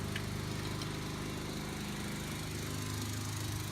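A small generator engine runs on its own with a steady, buzzing drone while it struggles to hold an idle. The sound is close and moderately loud, with a slightly rough, uneven texture and no voices.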